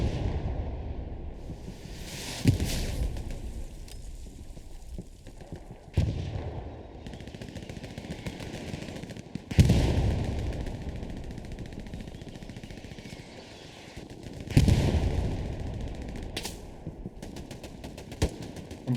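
Gunfire in the Hell Let Loose video game: heavy, booming shots land every few seconds, each with a long rumbling decay, over a continuous background of battle noise and distant crackling.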